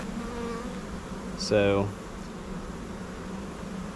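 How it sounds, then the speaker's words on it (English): Honey bees buzz steadily around a swarm hive box at a beekeeping farm in Jacksonville, North Carolina, a dense continuous hum. A voice speaks a single brief word partway through. "given the amount of bees hanging out on the outside of the box"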